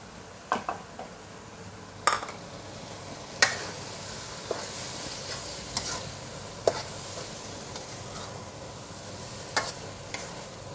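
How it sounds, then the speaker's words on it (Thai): Squid and shrimp stir-fried with instant noodles sizzle steadily in a pan, with sharp scrapes and clinks of a utensil every second or two, close and moderately loud with no talking. "ผัดง่ายๆค่ะ"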